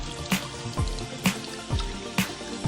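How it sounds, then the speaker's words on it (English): Hands being washed under running tap water at a kitchen sink before cooking, a close, steady splash and trickle broken by a few rhythmic splashy bursts as the hands move through the stream, with no talking. "it's very important to wash your hands before you start cooking."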